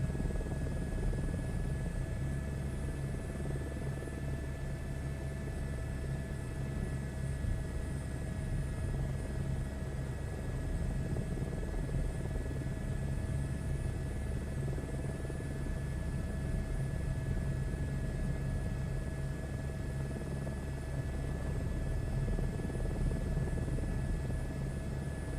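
Helicopter rotor and turbine in Microsoft Flight Simulator during a hoist and cargo mission, a steady whining drone with constant rotor rumble, unbroken and even throughout.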